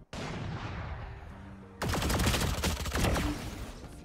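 Vandal rifle gunfire in Valorant: a steady hum of game ambience, then a loud, close flurry of rapid sharp shots in quick succession that keeps cracking for about two seconds.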